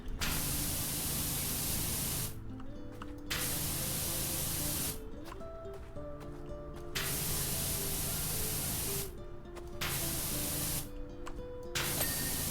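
A pressure washer sprays in PowerWash Simulator, a loud steady hiss of water jet that cuts off and restarts several times in bursts of a few seconds, with no talk.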